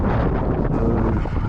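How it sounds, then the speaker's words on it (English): Strong wind on a beach buffets the microphone with a loud, continuous roar and rumble, steady through the short stretch. "the wind's just picking up even more"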